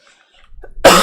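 A single loud, harsh cough bursts out close after near silence and a faint breath.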